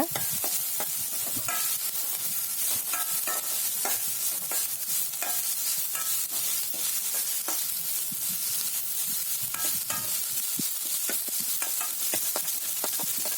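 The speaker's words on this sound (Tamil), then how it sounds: "இஞ்சி பூண்டோட பச்சை ஸ்மெல் போகிற அளவுக்கு கொஞ்சமாக வதக்கி விட்டுக்கோங்க" Ginger garlic paste and onions sauté in a hot pan for a fried egg curry, a steady close sizzle running throughout, broken by frequent scraping stirs, with no voices.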